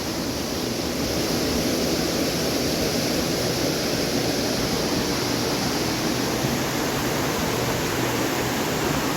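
Continuous rushing water, a broad steady roar of a river flowing past a mill in Ternopil, filling the whole clip without pauses or voices.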